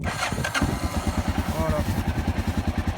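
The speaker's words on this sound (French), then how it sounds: "on va mettre un petit coup de start et ça démarre tout seul" Honda XL 600 LM motorcycle engine kicked into life and settling into a steady, close thumping idle, the regular single-cylinder pulses loud and even throughout.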